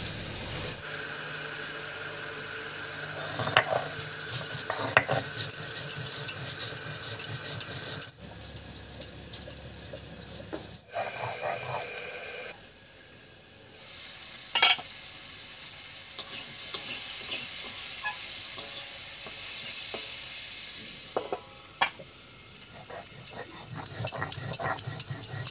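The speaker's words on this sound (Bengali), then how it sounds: "এই অবস্থায় আলুগুলোকে একটু ঢাকা দিয়ে দিয়ে ভাজা ভাজা মতো করে নেব।" Potato pieces fry in a pan, partly covered, while a tangra fish curry is prepared. A steady sizzle runs throughout with occasional stirring clinks, breaking into quieter stretches.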